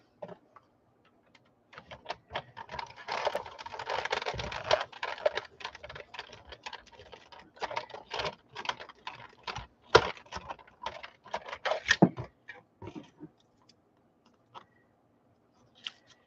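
Paper card tags being cut together, a run of small crisp snips and clicks in uneven rhythm, close and soft, with no talking.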